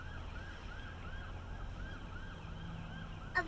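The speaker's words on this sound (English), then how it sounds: "It's a fire truck on duty" An on-duty fire truck siren wails in a rapid, repeating up-and-down cycle, heard from inside a car over steady road noise, moderately loud and continuous.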